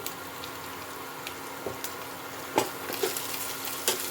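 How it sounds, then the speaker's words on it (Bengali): Spices frying in a pan for eggplant pakora make a faint, even sizzling hiss, with a few soft stirring taps and clicks spread across it and no one speaking. "মশলাটা ভাজা হয়ে গেছে"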